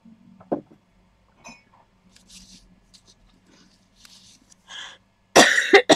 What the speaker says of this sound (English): I've started coughing now.